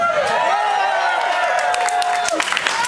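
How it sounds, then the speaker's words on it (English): Audience applause and cheering at a live concert at Melkweg, Amsterdam, steady and fairly loud throughout, with a singer's sustained voice running over the clapping. "It's the last bit of applause I'm going to get tonight."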